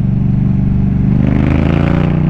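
Yamaha MT-07 motorcycle with an aftermarket exhaust revving up close, a loud steady throaty drone that rises slightly in pitch toward the end.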